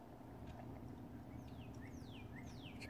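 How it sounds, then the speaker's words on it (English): Birds chirp outdoors on a rainy, muddy day, giving faint, scattered, quick sweeping calls at a distance over a steady wash of rain. "You guys can hear the birds there."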